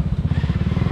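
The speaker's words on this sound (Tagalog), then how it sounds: "Yan ang motor ni Grace" A motorcycle engine runs close by in a steady, throbbing putter, its rapid low pulses even and unbroken for under a second, with no voices.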